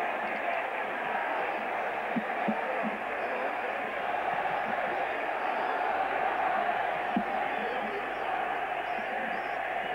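Large stadium crowd at a 1986 World Cup qualifying football match between Romania and Northern Ireland, a steady loud roar swelling with scattered shouts and whistles, with no commentary over it.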